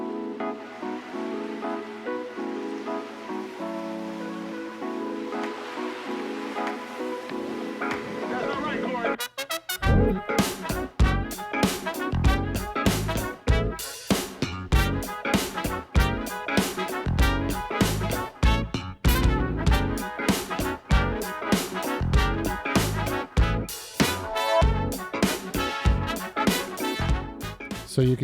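Brass horn section music track, opening with a softer sustained passage before a loud, punchy full-band groove kicks in at about ten seconds with sharp rhythmic horn stabs and drums.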